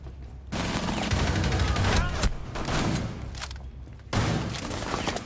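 Dense bursts of automatic gunfire in the tactical shooter Rainbow Six Siege, with a short break before a sudden fresh volley; loud, close and nearly continuous, with some talk under the shots.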